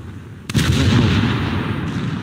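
Secondary guns aboard the cruiser Leipzig fire in War Thunder, a loud burst of rolling artillery blasts that starts abruptly and keeps rumbling with deep booms and crackle, sustained and close with no talk.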